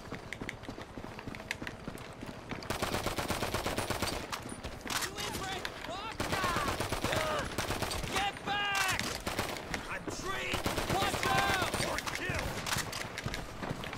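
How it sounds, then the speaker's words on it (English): Rapid bursts of machine pistol fire in GTA Online deathmatch play, crackling in repeated volleys over dense game noise, with speech-like chatter mixed in. "Machine pistol."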